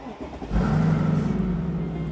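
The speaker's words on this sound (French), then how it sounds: "quand tu mets le contact, on dirait un jet fighter, lancement de missile" A Mercedes SLR McLaren 722 Edition engine cranks and catches, then settles into a loud, deep rumbling idle that holds steady close by.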